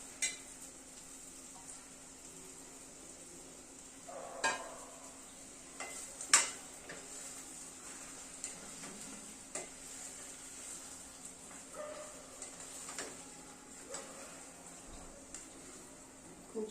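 Fried vegetables for a dhaba-style veg Kolhapuri being stirred into hot oil, a steady soft sizzle under occasional spoon taps and clinks against the pan, close by.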